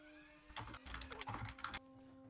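A fast, loud burst of computer keyboard typing, a rapid clatter of keystrokes lasting about a second and a half, heard alone against quiet background.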